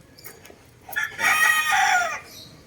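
A fighting rooster offered for sale by a neighbor crows loudly and close by in one long, strong call, with a few soft clucks before it and a brief quieter sound after.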